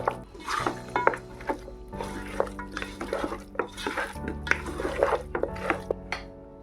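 Meat pieces are mixed with crushed cardamom in a pot for dum biryani, producing repeated scraping and clinking strokes of a spoon against metal in an uneven rhythm, close and moderately loud.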